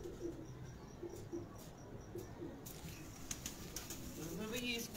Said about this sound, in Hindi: ये है जी कमाल कबूतर।